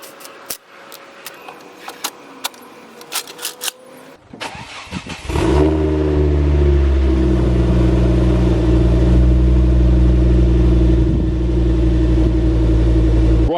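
Faint clicks and rattles, then a Ford Focus RS Mk2 engine fires up and settles into a loud, steady, close rumble that holds to the end.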